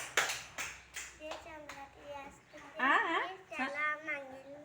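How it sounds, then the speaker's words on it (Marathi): A short burst of hand clapping by second-grade schoolchildren at the start, followed by their voices chattering close by. "जोरात टाळ्या वाजवा त्यांच्यासाठी"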